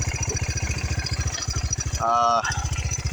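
A 1991 Kawasaki Bayou 300 4x4 ATV engine runs close by with a fast, steady chugging pulse, broken briefly by a short higher-pitched tonal burst before the putter resumes.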